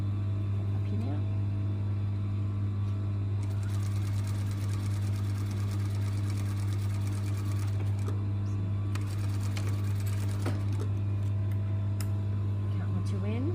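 A sewing machine runs in steady, even bursts while stitching a garment's shoulder line, a constant motor hum under the rapid needle clatter, with a person talking over it.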